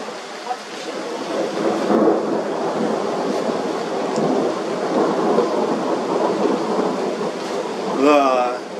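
Rolling thunder rumbles over steady heavy rain in a Kharkiv courtyard, with a sharper crack from a nearby lightning strike near the start and a brief voice at the end.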